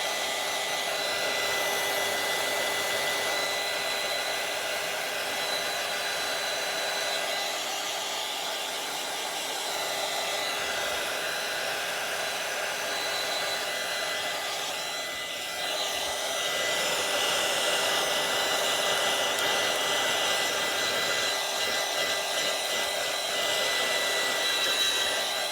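A hair dryer blowing steadily to dry gesso on a page, a loud, continuous whooshing hiss that holds almost unchanged throughout, with a slight shift in tone about midway.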